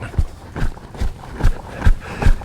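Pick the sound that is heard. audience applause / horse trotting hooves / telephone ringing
horse trotting hooves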